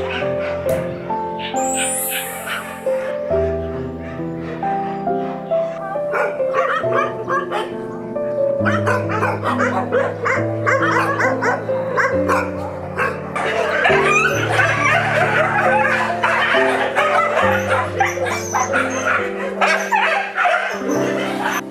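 Many dogs at an abandoned dog shelter bark, yip and whimper together in a busy, overlapping chorus that carries on without pause, loud and close, with some music also playing.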